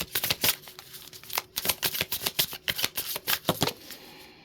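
Tarot cards are shuffled up close in quick riffling bursts, a crisp flurry of flicks with a brief pause partway through.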